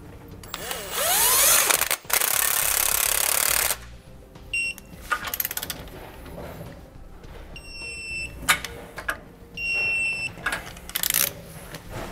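Power tool, likely an impact driver, torquing nuts onto rear anti-sway bar brackets on a 2014 Mercedes-Benz: several short, loud whirring bursts of varied length, separated by clanks and pauses, close by.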